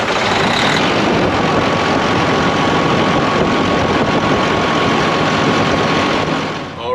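A truck engine runs loud and steady at idle after a repair, a heavy continuous rumble with no talk, easing slightly near the end.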